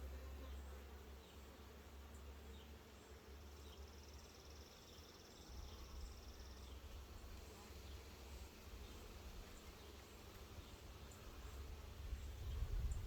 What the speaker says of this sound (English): Lots of bees in here.